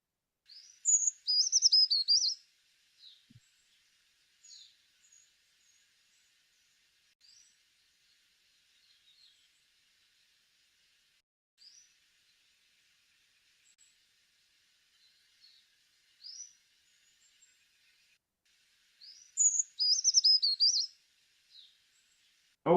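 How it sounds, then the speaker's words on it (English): A small songbird sings a weak, jumbled, tumbling warble in the woods, two longer bursts at the start and end with scattered faint chips between, fairly distant in a quiet setting. "it's this jumbled, tumbling, warbling song. And it has a very weak quality to it."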